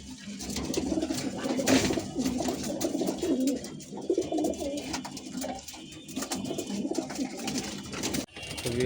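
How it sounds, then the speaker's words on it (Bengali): A male Musaldom pigeon gives repeated throaty coos at close range, rhythmic and continuous against light background noise. "এই হচ্ছে নর কবুতরটি।"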